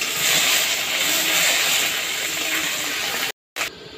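Grated ginger hits hot oil with panch phoron in a pan while a vegetarian Bengali dish is cooked. The result is a steady, loud, close sizzling hiss that cuts out briefly near the end.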